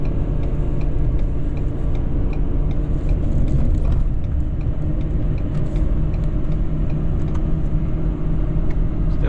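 A 2017 Ford F-550 Power Stroke diesel truck with 124,000 hard miles drives in fifth gear, its engine and road noise a loud, steady low rumble heard from inside the cab, with no talking.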